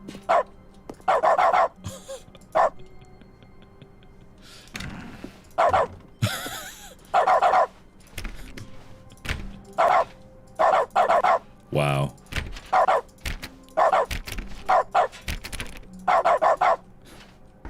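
A dog barks repeatedly in short bursts in the dog mode of The Stanley Parable: Ultra Deluxe video game, loud and close, with occasional yips and a brief spoken exclamation in between.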